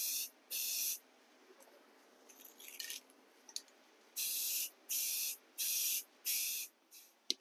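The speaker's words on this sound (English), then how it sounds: "This is a paint and primer in one, so it's a real time saver." Paint-and-primer-in-one spray can misting onto model building pieces: five steady bursts of about a second each, close and hissing, with small handling rattles in between.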